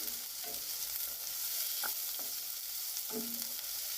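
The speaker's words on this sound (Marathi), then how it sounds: "शिमला मिरचीला छान असं परतून घेऊया आपण" Capsicum being sautéed and stirred in a pan: a quiet, even sizzle with a few soft spatula scrapes spaced across a few seconds, close but faint.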